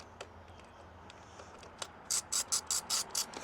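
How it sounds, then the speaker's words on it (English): A T50 bit ratchet tightens a bolt while new DoubleTake mirrors are fitted, first a few scattered clicks, then a rapid, loud run of evenly spaced ratcheting clicks close by. "you just kind of bolt that in there, get it fitted tight"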